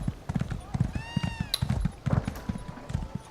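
Horse hooves clip-clop in a steady, quick rhythm as a slow starter mount trots in Elder Scrolls Online, with a short whinny-like tone and game sounds over the hoofbeats.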